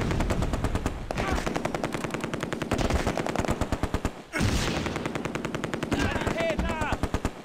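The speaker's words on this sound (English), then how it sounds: "They're trying to assault with a machine gun team." Machine gun fire in the WWII strategy game Close Combat: A Bridge Too Far, rapid dense bursts rattling almost nonstop and loud, with brief gaps and some faint game voices mixed in.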